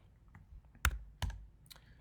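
A few sparse, separate clicks on a computer keyboard while 3D modeling, two sharp strikes standing out over a quiet room, with no speech.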